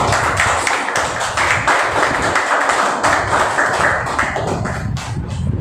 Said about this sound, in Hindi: क्यों ना हम परमेश्वर के लिए ताली बजाए जोर से।